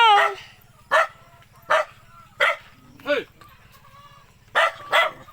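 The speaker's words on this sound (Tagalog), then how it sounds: "Takot ako sa aso!" A dog barks sharply about seven times in an irregular rhythm, close by on a rural farm, with a person shouting briefly at the start.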